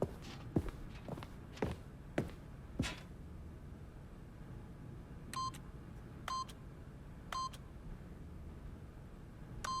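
Footsteps cross a room in The Stanley Parable, then four separate electronic beeps sound as a keypad PIN is punched in, clear and evenly spaced.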